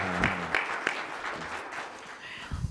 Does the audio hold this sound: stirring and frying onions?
no